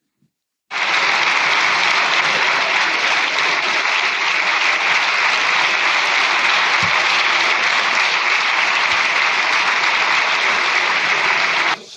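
Sustained applause fills the chamber of the Spanish Congress of Deputies as parliamentary groups give a farewell ovation, dense and steady for about eleven seconds before cutting off abruptly.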